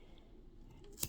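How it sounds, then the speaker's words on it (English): One short, crisp snip of scissors cutting through crochet yarn, close and quiet, coming right at the end after near silence. "we're gonna cut off those 2"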